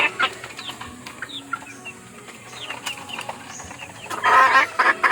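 Backyard hens cluck and murmur at close range, with scattered short calls building to a louder burst of clucking near the end, and a brief rustle of wings.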